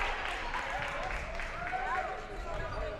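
Home crowd at a girls' high school basketball game against Drake, cheering and getting fired up during a comeback, a loud continuous roar of voices with scattered shouts and whistles.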